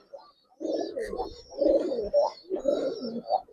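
A female Giribaz pigeon cooing close by after being let go, three rounded throaty coo phrases in a slow rhythm, with faint higher chirps from other birds in the background.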